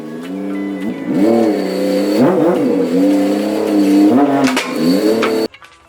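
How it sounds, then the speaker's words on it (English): A Toyota Chaser JZX100 strapped to a dyno revs its engine in repeated loud blips, the pitch rising and falling several times before cutting off sharply near the end, with no talking. "Okay, so I've got the Chaser loaded up on the dyno."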